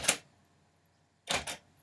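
Typewriter keys on a retro machine strike in two short bursts, one at the start and a quick double clatter after a pause, fairly close and loud against near silence.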